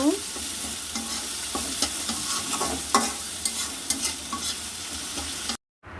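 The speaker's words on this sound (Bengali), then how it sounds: "এবার পেঁয়াজ আর রসুনগুলোকে ভেজে নিব" Onion and garlic fry in a pan after fish has been fried, a steady sizzle with scraping stirring strokes at irregular intervals, close and alone.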